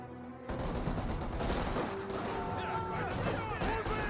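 Sustained gunfire and distant explosions from battle in Company of Heroes 2, a dense continuous barrage of small-arms and machine-gun fire filling the whole stretch after a brief quiet start, with no speech over it.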